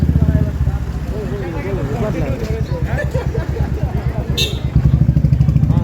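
A motorcycle engine putters steadily with a throbbing rhythm, close by, while a person talks over it.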